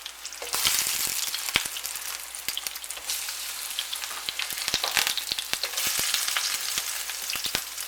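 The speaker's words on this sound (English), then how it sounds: "it's kind of like deep frying in the pan" Corn fritters frying in a lot of oil in a frying pan: dense, constant close sizzling with frequent sharp pops and crackles spread throughout, with no voices.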